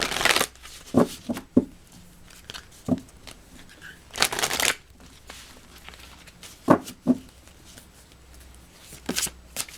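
Heart Path Oracle cards shuffled by hand in a series of short, crisp riffling bursts and slaps, some grouped in quick pairs, close and clear with no talk.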